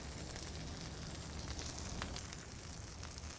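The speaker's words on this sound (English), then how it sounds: "First patty down" Burger patty sizzling on a Blackstone flat-top griddle, a steady, dense hiss of frying fat running loud and unbroken throughout with faint crackles and pops.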